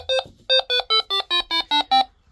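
A PARATEK Version 7 TEMPUS detector sounding its alarm: a run of nine evenly spaced electronic beeps, loud and close, each tone stepping slightly lower in pitch, with no talk.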